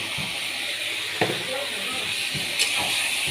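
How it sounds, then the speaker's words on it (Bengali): Masala spices with a little sugar sautéing in a pan, a soft constant hiss with a few sharp clinks and scrapes of stirring, close by while someone talks over it. "মশলাটা কষাচ্ছি"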